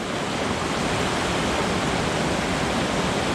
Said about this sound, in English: The water's kind of surging,